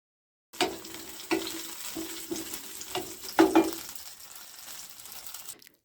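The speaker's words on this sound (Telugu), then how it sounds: "చింతపండు కొంచెం, జీలకర్ర 1/2 టీ స్పూన్ వేసి 1 నిమిషం పాటు వేయించుకొని పక్కన పెట్టుకోవాలి." Green chilies, tamarind and cumin seeds fry in a pan for a Dosakaya Pachadi chutney, giving a close sizzling crackle with several stirring scrapes and knocks, starting after a short silence and fading out near the end.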